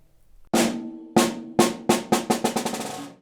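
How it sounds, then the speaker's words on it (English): A drumstick drops onto a drum and bounces, its quick strikes speeding up and fading in a tightening rattle until they blur together. "we wanna drop our stick and let it bounce like that."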